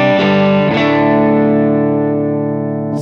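Electric guitar chords through a Line 6 Helix modeling the PlexMan DW amp, two distorted strums rung out into one long, loud, sustained chord that slowly decays, played alone.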